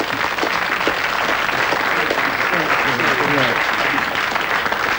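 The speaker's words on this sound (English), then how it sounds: "Give him a round of applause." An audience applauds with a dense, sustained clapping that holds steady for several seconds, while a voice talks over it.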